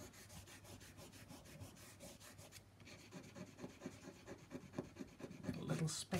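A finger rubs dry watercolor paint off paper in quick, faint scratchy strokes, close up and quiet, with the rubbing growing a little busier toward the end.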